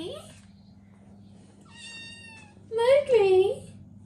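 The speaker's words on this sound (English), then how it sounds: "What are you meowing for?" A pet cat named Mowgli meows indoors at home, two drawn-out rising-and-falling cries close by, with a voice speaking around them over a low steady hum.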